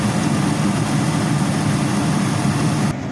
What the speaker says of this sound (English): So let's go ahead and let this engine heat up and see what happens.